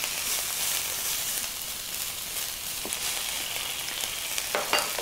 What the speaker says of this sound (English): and let's saute them.